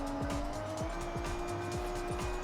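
A car in Forza Horizon 6 laps a track with a droning engine that rises and drops through repeated quick gear shifts, joined by tire squeal, continuous and fairly loud.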